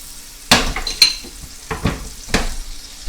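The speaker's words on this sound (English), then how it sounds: "get that sizzle effect, shall we?" Vegetables including carrots being stirred and frying in a pan, with a few loud sizzling bursts as food hits the hot surface, close and clear with no talking.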